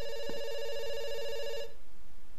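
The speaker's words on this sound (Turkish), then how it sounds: "It's ringing." Telephone ringing in the video game Dr. Langeskov, a single bright electronic ring held for about a second and a half before cutting off abruptly, clear and fairly loud over a faint hum.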